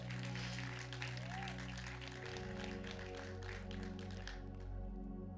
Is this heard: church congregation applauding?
yes